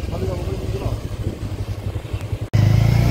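A motorbike climbing the road up to Kamakhya temple: a steady low engine drone throughout, briefly cutting out, then returning slightly louder, with a voice talking over it.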